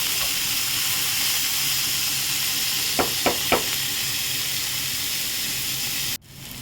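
Cabbage fries in a pan with a steady, close hiss and sizzle; midway three quick spatula scrapes cut through before the sound drops off abruptly near the end.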